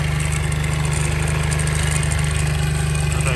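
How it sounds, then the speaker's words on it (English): A Honda XR70 motorcycle engine idles steadily and close after about ten minutes of running, with a worn cam chain slapping. It makes an even, low, continuous thrum with no revving. "Still got a lot of cam chain slap, it sounds like."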